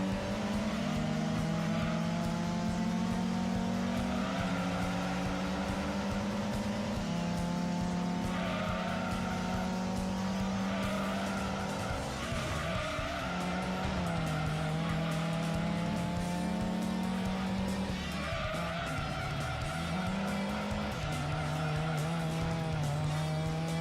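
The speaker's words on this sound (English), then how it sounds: "That Ford is bumping me." Race cars in Gran Turismo 2, a Ford among them, drone close together through the last stretch, with a steady whining engine pitch that shifts through gear changes and occasional scuffs of contact.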